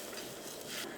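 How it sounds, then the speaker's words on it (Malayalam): Quiet stirring in a pot of boiling prawn curry with kodampuli, with soft scraping and a faint bubbling sizzle underneath. It is brief and low in level, with no voices. "നമുക്കൊന്ന് ഇളക്കിയിട്ട് കൊടുക്കാം"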